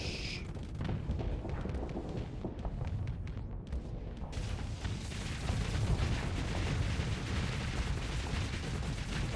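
Torpedoes and weapons fire in a Starsector space battle: a steady stream of thuds and booms that thickens into a heavier, denser barrage partway through, with no talking.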